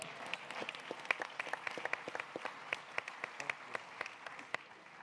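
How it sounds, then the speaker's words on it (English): Sparse, scattered clapping from an audience at a community hearing, individual claps standing out over a steady murmur of a small crowd, fairly near and moderately loud throughout. "Let's give her a round of applause"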